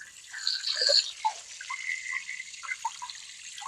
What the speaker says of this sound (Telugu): ఇలా పైనుంచి మనం వాటర్ వేస్తే తొందరగా ఇవి కోలుకుంటుంది